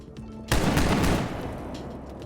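Loud, close gunfire in STALKER GAMMA: a sharp shot cracks out and is followed by a dense burst of rapid automatic fire lasting about a second, then a fading echo.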